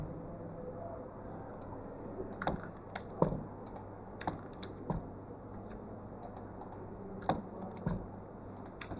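Keys clatter on a computer keyboard as someone types in MS Word, short irregular bursts of crisp clicks at close range, fairly quiet, with no talking.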